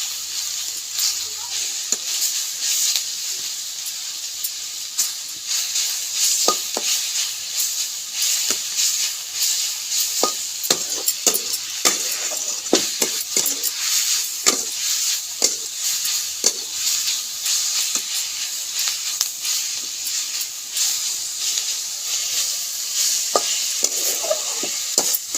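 Saag greens stir-fry in a pan with a steady, close sizzle, broken throughout by sharp scraping and clattering stir strokes. No one speaks.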